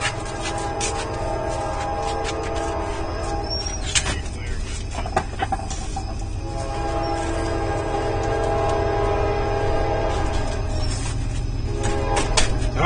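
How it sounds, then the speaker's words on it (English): A train rumbles past in a steady, continuous roar close by, with a horn sounding around the middle and near the end, the rolling rail noise holding throughout at evening trackside. "All right, guys, train time."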